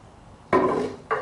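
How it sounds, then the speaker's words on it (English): A blacksmith's hammer strikes a wood board twice in a quiet workshop. The first blow rings out longer, and the second is a short, close knock. "If we hammer on here, we would hammer out our texture."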